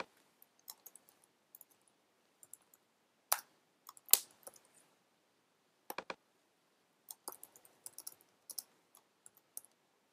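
Computer keyboard typing in short irregular bursts of crisp clicks, quiet and close, with longer pauses between groups of keystrokes and a few louder key taps.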